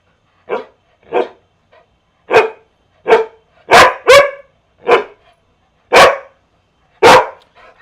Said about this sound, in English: Why was she barking? Because she wanted the food.